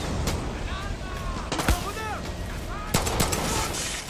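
Gunfire in Far Cry 6, several sharp shots and short bursts cracking over a busy combat background, with a person talking during the shooting.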